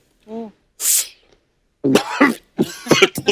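A short vocal sound and a sharp cough break the quiet, followed by a burst of harsh, rough coughing and throaty noises.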